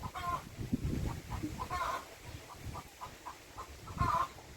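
Rooster giving short, repeated clucks at a farmyard, several soft calls spaced through the moment over low background rustle and faint noise.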